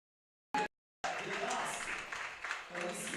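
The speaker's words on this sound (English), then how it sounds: "the crowd gives some support for the girls" A crowd at a women's freestyle football championship battle applauds in a steady burst of clapping and cheering after a short clipped sound and a pause, with a voice talking over it.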